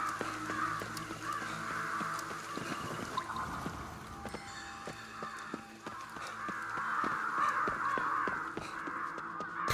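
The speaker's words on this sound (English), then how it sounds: "will these crows just fuck off already?" Crows caw repeatedly in the video game Ghostwire: Tokyo, several birds calling in overlapping bursts at steady loudness over a continuous game ambience.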